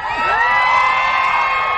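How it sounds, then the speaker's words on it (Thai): A comedy show audience screams and cheers loudly, a dense wall of shrill crowd voices and whoops sustained throughout without a break. "เสียงกรี๊ดดัง ๆให้กับพวกเขาด้วยครับ"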